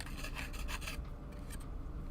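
A plastic part from a Perfect Grade Astray Red Frame Gunpla kit being sanded, with quick rhythmic rasping strokes up close that soften after the first second, then a couple of brief scrapes, no talking.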